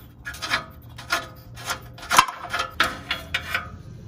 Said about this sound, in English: since the cable is disconnected, it makes it a lot easier to unscrew this.